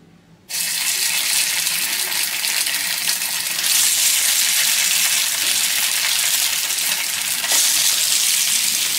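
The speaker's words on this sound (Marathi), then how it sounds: "इथे बघू शकता अशा प्रकारे मी ह्या कचोऱ्या याच्यामध्ये आप्पे पॅन मध्ये टाकून घेतलेल्या आहेत।" Kachoris frying in oil in an appe pan, a loud steady broadband sizzle and crackle that begins abruptly after a brief quiet moment and continues unbroken, swelling slightly louder midway.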